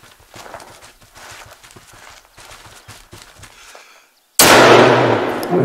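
Quiet footsteps shuffle along, then a single loud triple-barrel gunshot booms out in the hunting video game theHunter: Call of the Wild, and its echo slowly fades.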